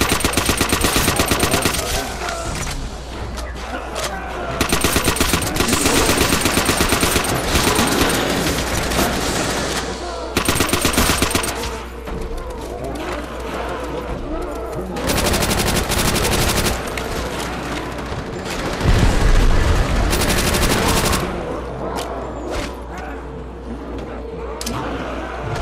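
Rapid gunfire bursts from weapons in the Nazi Zombies video game, loud and dense, in repeated volleys with brief pauses over a steady game background and occasional booms.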